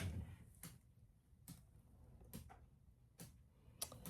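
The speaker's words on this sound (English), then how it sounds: "I keep hearing something ticking" Faint regular ticking, like slow dripping water, in a quiet room, about one tick every 0.8 seconds, soft and distant.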